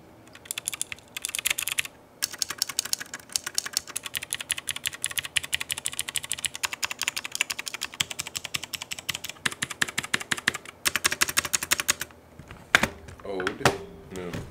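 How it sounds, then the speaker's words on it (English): Someone types steadily on an old computer keyboard, fast loud clattering keystrokes close up with brief pauses and a few louder thumps near the end. "And then this is what the old keyboard sounded like."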